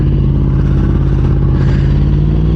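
Yamaha R1M motorcycle engine idling close by while the bike is turned around, a loud, steady, throbbing rumble with no pauses.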